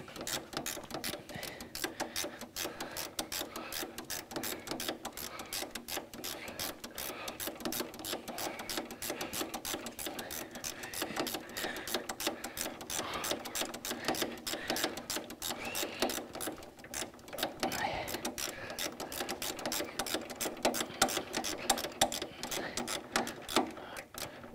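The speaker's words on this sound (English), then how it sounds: "Nice little ratchet spanner here, very useful." A ratchet spanner undoes a bolt during engine and gearbox removal on a Citroën DS21, producing rapid, continuous, fairly faint clicking that runs on without pause.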